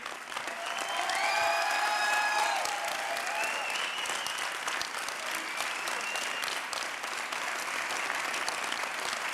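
Enthusiastic applause and cheering from an audience at an awards ceremony, with whistles and shouts rising over dense clapping early on, then steady clapping continuing to the end.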